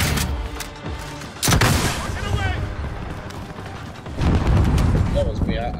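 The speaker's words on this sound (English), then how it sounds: "That was me. I shot a rocket." Rockets fired in a first-person shooter video game thump out as two loud, deep booms about three seconds apart, over a rumbling gunfight backdrop with voices in the mix.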